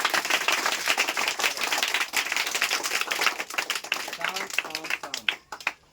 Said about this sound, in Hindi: सही जवाब है, जोरदार तालियां